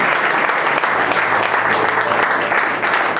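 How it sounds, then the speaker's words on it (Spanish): Dense, steady applause from a church congregation fills the space, loud and continuous from start to finish with no pause. "dale aplauso a Dios."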